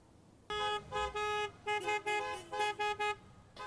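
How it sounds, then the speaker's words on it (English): Car horns from a census caravan honk in a string of loud blasts, one long toot followed by several short ones in an uneven rhythm, with nothing else heard. "If you heard honking in your neighborhood, it may mean you haven't filled out your census yet."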